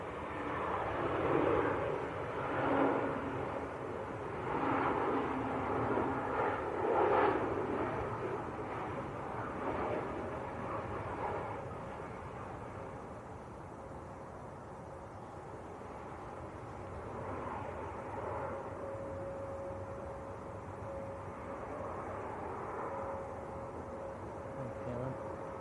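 Embraer 190 airliner landing at Manchester Airport, a broad steady jet roar that swells early and then settles into a sustained mid-distance rumble with a faint whine, no talk over it.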